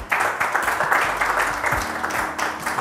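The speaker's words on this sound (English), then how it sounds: "Please put your hands together for this gentleman." An audience bursts into applause to welcome a guest on a talk show, dense, lively clapping sustained for a few seconds at moderate loudness.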